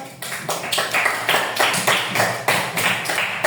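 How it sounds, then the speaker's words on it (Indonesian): Schoolchildren in a classroom clap together in a rhythmic pattern of sharp, loud bursts, about seven quick groups at regular intervals, close by and with no talk over them. "Oke, tepuk tangan dong."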